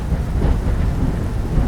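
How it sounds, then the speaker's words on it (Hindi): Heavy rain pours steadily over a forest with a deep, continuous rumble of thunder underneath, loud and enveloping. "बारिश इतनी तेज थी कि पूरे जंगल में बारिश का पानी बहने लगा।"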